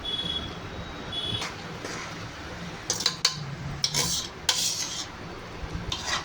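Semolina added to melted jaggery and stirred in a bowl, with a spoon scraping and clinking against the vessel in irregular bursts over a faint background hiss.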